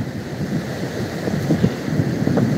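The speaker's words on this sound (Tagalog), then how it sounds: "Malakas kasi ang hangin. Malakas ang alon." Strong wind gusts buffet the microphone at the seaside on a rough-weather day, a steady broadband roar blending with crashing waves, loud and continuous without pauses.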